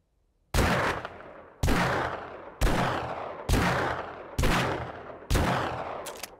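Six loud rifle shots in the 7 Days To Die video game fire at a steady pace roughly one second apart, each a sharp crack with a decaying echo, with no talk.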